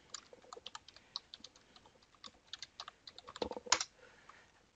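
Typing on a computer keyboard: a quiet run of light, irregular key clicks, with a slightly louder cluster of presses near the end, heard alone.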